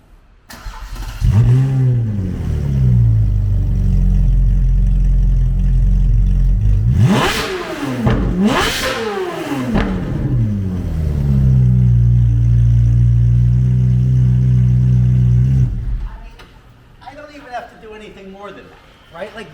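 A Ferrari engine idles with a deep, loud rumble, then revs twice in quick, rising and falling bursts before settling back to a steady idle and cutting to quieter sound.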